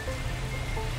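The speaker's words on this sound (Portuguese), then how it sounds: "tá chovendo demais" Continuous heavy rain in a video game, a dense even wash of noise with no breaks and no one speaking.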